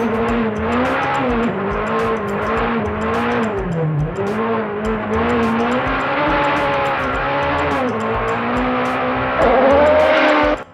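A Peugeot rally car racing uphill on the Climb Dance hill climb: a loud, close engine revving hard through repeated gear changes, pitch rising and dropping, with a sharp surge near the end.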